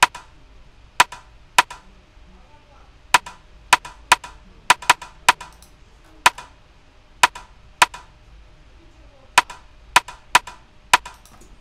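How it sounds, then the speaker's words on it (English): A hip-hop beat's rim shot pattern plays on its own, sharp dry clicking hits in an uneven syncopated rhythm, a couple per bar, crisp and close with silence between. "Next we have the rim shot."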